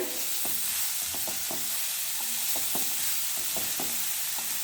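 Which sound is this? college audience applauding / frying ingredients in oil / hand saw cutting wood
frying ingredients in oil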